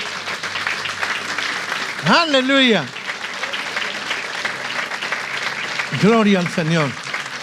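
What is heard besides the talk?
church congregation applause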